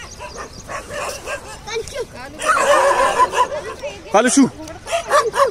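Several dogs bark and yelp close by on a morning walk in Delhi during lockdown, with loud bursts and a whimpering cry, while someone shouts at them between barks.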